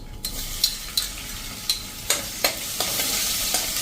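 Finely chopped onions fry in hot oil with whole cumin and asafoetida, a steady sizzle broken by sharp spatula scrapes and clicks at a regular pace, close up.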